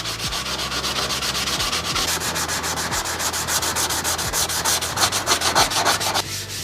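Steady, close sanding rubs back and forth across a dented panel, working out deep scratches for a smooth transition, with a regular stroke rhythm and no talk.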